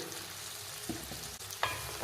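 Sweet corn rice tempering with grated carrot gets stirred in a hot pan, soft sizzling underneath a couple of brief spoon scrapes and clinks.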